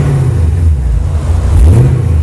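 LS V8-powered BMW M3 idling loudly and close, with a deep steady rumble that rises into a brief rev around the middle before settling again, no talking.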